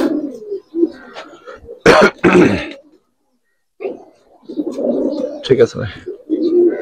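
Giribaz and coloured pigeons from a fancier's collection coo softly and repeatedly beneath close, ongoing men's conversation, with a couple of sharp handling noises in between.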